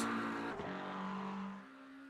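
A McLaren GT3 race car in a sim-racing endurance event at Road America roars past at the finish line, its engine note sustained and then dropping away as it passes.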